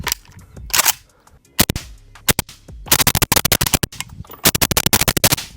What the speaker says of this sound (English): We do have this hooked up to the Dead Air Wolverine suppressor today, so we're gonna fire some rounds